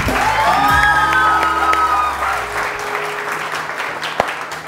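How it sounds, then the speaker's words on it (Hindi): A studio audience on a TV morning show claps loudly and steadily with scattered cheers and whoops, under a fading musical sting, then thins toward a single sharp clap near the end. "बहुत सारी तालियां"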